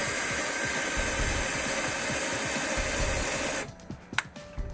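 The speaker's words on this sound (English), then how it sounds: "Pre-drill a hole." Power drill boring a pilot hole during a Whirlpool water softener install, with a steady, loud close whir that stops abruptly near the end, followed by a few small clicks.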